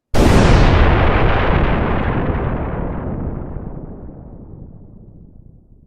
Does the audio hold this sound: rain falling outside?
no